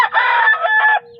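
A rooster gives a loud, close crow lasting about a second, with a strained, rising-and-falling tone that cuts off abruptly.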